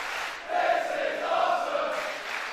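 A wrestling crowd at a WCPW Lights Out event chants in a steady, rhythmic unison roar that fills the arena, loud and sustained throughout.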